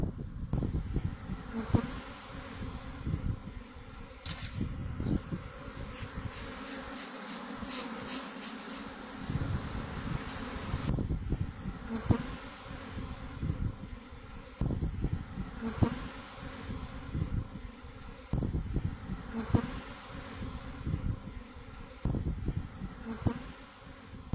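A swarm of honeybees drones around a tree branch in a continuous, close buzzing hum, with occasional sharper knocks and rustles cutting through the steady insect noise.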